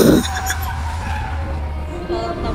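A Subaru exhibition car drifts at the Manila International Auto Show, its tires skidding in a loud, sustained screech over a steady engine roar, with a brief burst of crowd noise at the start.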